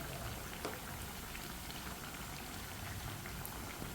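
Potato tikki shallow-frying in oil in a pan, giving a steady, dense sizzle and crackle throughout, fairly faint and with no voices.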